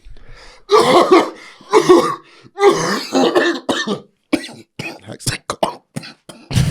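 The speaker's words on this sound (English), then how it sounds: "You actually made yourself cough." A few sharp, close coughs and throat clearing, mixed with voiced bursts in a short, uneven sequence.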